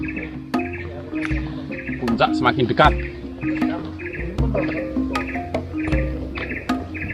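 Birds chirp repeatedly along a rocky macadam trail on Mount Arjuno via Tretes, with short bright calls recurring throughout over steady background noise while hikers talk nearby.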